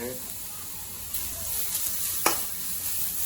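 Grated beetroot sautéed in ghee for a halwa, giving a faint, even sizzle with a couple of light scrapes from a spoon, close and quiet.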